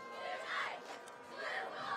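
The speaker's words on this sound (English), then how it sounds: "Big crowd here." A large crowd roars and cheers at a high school football game between Maroa-Forsyth and Williamsville, a steady loud wash of voices swelling twice over two seconds.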